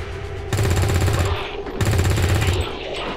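Overwatch gunfire in XCOM 2: two loud sustained bursts of rapid automatic fire, each lasting about a second, close and dominant over a low game background.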